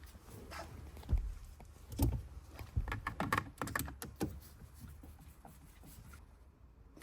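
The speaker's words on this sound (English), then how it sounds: "Now we can go ahead and screw in these screws right here." Screws being driven in by hand while fitting a clock spring on a 2010 Nissan Frontier, with a string of close clicks, taps and small plastic knocks at an irregular pace and no talk.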